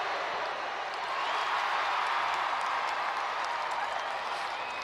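A loud crowd at a women's basketball game roars and cheers in a steady, dense wall of noise with clapping mixed in, and an indistinct voice sits under it.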